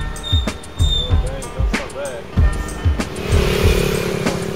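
A 125 scooter engine, heard first under people talking and then rising into a steady, louder hum near the end as it rides closer.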